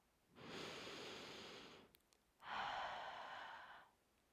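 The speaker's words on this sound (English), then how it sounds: "find another audible inhale and exhale." Two slow, audible breaths during gentle seated yoga, a long airy inhale followed by a pause and a fuller exhale, close and soft in a quiet room with no talking.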